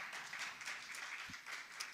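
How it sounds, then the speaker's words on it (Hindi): Applause from an audience at an international research seminar during Vikramotsav 2026, a steady wash of clapping that stays fairly faint and distant throughout, with no speech over it. "इनके लिए जोरदार तालियां बजाइए"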